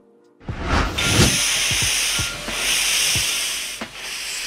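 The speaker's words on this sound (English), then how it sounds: "Steam locomotive." A steam locomotive hisses loudly and continuously, with rhythmic chuffing bursts and metallic clanks at irregular intervals, heard up close and alone.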